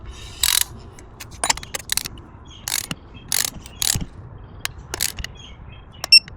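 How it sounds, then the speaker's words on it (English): Ratchet wrench tightening the oil filter on a 2025 Honda CB750, heard as short bursts of rapid clicking that start and stop across the clip, close and fairly loud over a low background hum. "And now we're gonna tighten up this oil filter back to"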